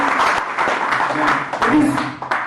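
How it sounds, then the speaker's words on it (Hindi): An audience applauds to welcome the Kalki Peethadheeshwar Acharya, a dense patter of many hands clapping at once, loud and steady for a couple of seconds. "एक बार आप लोग थोड़ा सा कड़ी तालियों के साथ इनका स्वागत करते हैं।"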